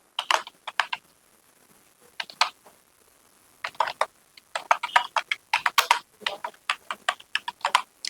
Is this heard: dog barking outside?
no